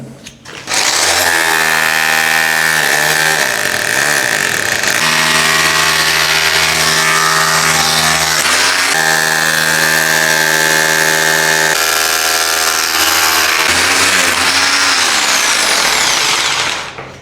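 A Bosch PBH 2000 RE SDS hammer drill bores into brick with a loud, close, sustained whine and rattling hammer action, pausing briefly between runs and ending as it winds down.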